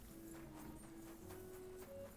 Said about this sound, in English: he's actually leaving on a horse